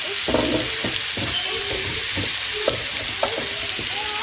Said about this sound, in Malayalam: കൂണ് നമ്മൾ ഈ സോട്ടേ ചെയ്ത് വെച്ചിരിക്കുന്ന ഒനിയൻ ആൻഡ് മറ്റേ കോക്കനട്ട് മിക്സിലോട്ട് നമ്മൾ ആഡ് ചെയ്ത് കൊടുക്കുവാണ്